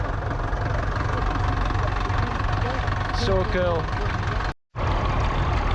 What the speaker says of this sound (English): The row of tractors and vehicles is moving and I'm basically on the P6 again